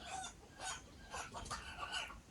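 A rooster crows close by among pet hens Jelly and Mollie, in a series of short, loud, rasping call bursts about every half second, with no talking.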